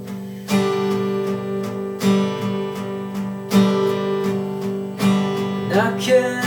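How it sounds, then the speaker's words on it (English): An acoustic guitar, played without a capo, strums the chords of a song in steady down strokes, ringing close and full with no voice. "the way that would sound if you're using it in the song is it would sound like this."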